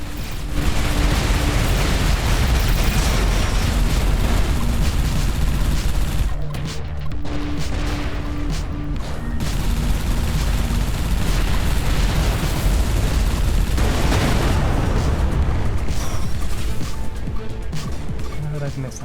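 Missile explosions in the space-combat game Everspace 2, a dense, continuous barrage of blasts and booms with brief dips, with a voice speaking intermittently over the roar.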